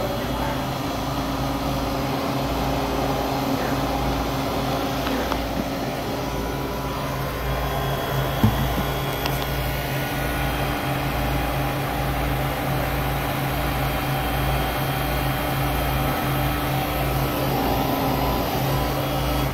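A refrigerated produce display case runs and pumps down, giving a constant, even mechanical hum and drone that stays loud and unchanged for nearly twenty seconds, with only a faint click or two.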